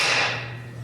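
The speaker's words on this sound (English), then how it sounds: "Turn it around, hold it here, give it a whack with a hammer." A hammer strikes a clip on a Scout drive shaft during restoration, a single close metallic whack with a ringing tail that fades over under a second.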